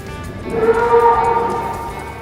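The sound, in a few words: cattle mooing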